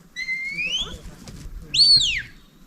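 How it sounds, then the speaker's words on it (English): Two sharp, high-pitched sheepdog command whistles on a New Zealand sheep farm, the first a rising two-tone sweep, the second a loud falling note, close by with faint background noise. "She's got a verbal command, but she also has a whistle."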